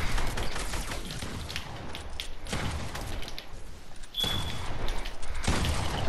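Bursts of SCAR rifle fire in a shooter video game, dense rapid volleys separated by brief gaps, loud and close, with no speech over them.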